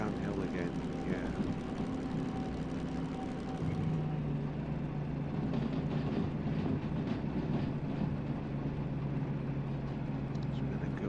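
A long freight train in the Derail Valley simulator game rolls downhill off the throttle, wheels and wagons rumbling steadily with faint clickety-clack and a low sustained drone throughout.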